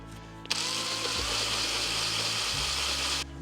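A power drill whirs up and runs steadily for about three seconds before stopping, close and fairly loud, with no talking.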